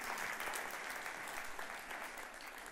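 A church congregation applauds loudly during a French-language sermon, a dense, steady wash of clapping that holds for the whole stretch with no talk over it.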